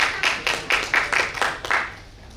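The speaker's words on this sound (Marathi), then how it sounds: "मॅडम साठी जोरदार टाळ्या झाल्या पाहिजेत." Audience at a medical university workshop on artificial intelligence in Nashik claps in bursts, a rhythmic run of roughly eight clustered hand claps fading out near the end, indoors and moderately close.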